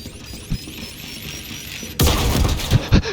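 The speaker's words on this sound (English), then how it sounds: "if there's an explosion in the same room as your player is standing" A video game explosion: a loud, sudden boom at about two seconds fills the whole range with a burst of rumbling noise, followed by crackling debris-like impacts; a quieter synthetic hum precedes it.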